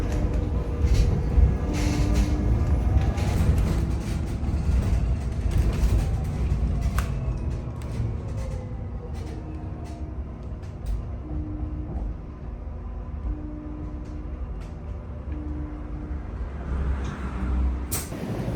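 Interior of a moving, nearly empty bus: a steady engine rumble with creaks and rattles of the body, occasional mechanical whines and a brief hiss near the end.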